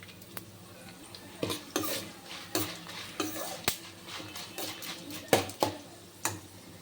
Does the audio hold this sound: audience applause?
no